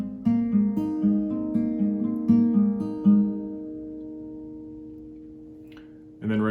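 An acoustic guitar fingerpicking pattern from a song plays several even plucks, then halts on a low thumb-played bass note that rings and slowly decays before a voice starts.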